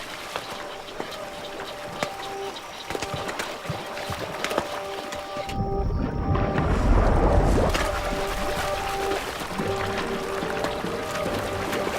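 Loud churning, splashing river water packed with fish swells midway into a rushing roar, thick with rapid splashes and bubbling that keep going to the end.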